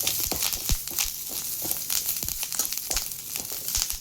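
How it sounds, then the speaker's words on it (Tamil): Curry leaves crisping in hot refined oil for a spicy curry leaf powder: a close, steady sizzle with bright crackles and pops throughout, no voices. "இது நல்லா முறப்பாக வறுக்கணும். இதை நல்லா ஃப்ரை பண்ணணும்."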